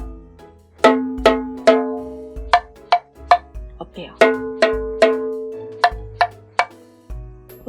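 Tuned percussion bars or bells of different sizes are struck one at a time in a slow melody, each clear metallic note decaying, lower and higher pitches alternating; a voice briefly speaks in the middle.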